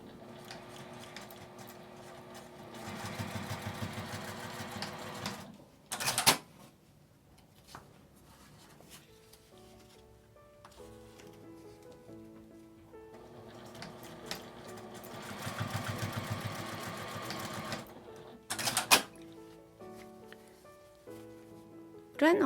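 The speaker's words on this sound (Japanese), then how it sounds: "この線の上を縫います。" A sewing machine stitches a seam on a small round zip pouch in two bursts of rapid mechanical whirring, each lasting a few seconds, with quiet pauses, handling clicks and soft fabric rustle between them.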